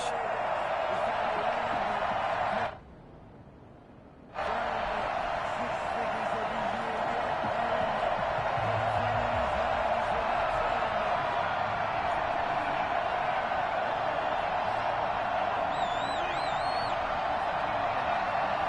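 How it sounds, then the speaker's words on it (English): Stadium crowd at a Madden 21 game between the Detroit Lions and Cleveland Browns roars as a steady wash, with a brief dropout near the start and commentary playing over it. "This crowd is ready as their guys get set to match up between the Detroit Lions and the Cleveland Browns."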